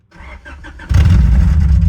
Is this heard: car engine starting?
yes